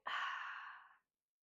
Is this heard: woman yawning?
yes